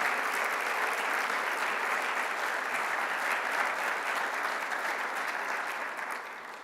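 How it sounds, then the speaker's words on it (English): Audience applause at a European Democratic Party congress in Bilbao, a steady dense roar of clapping from a large hall crowd, sustained and even throughout before tapering slightly at the end. "je voudrais vous demander de les remercier en les applaudissant"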